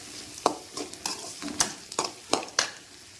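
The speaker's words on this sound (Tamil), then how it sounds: "அன்னாச்சி பூ, ஒரு ஏலக்காய், இதையெல்லாம் போட்டு நல்லா வதக்கிக்கலாம்." Whole spices, star anise and cardamom, are stirred and sautéed in a hot pan for mutton curry, giving a soft sizzle punctuated by repeated scraping strokes of a spoon against the pan.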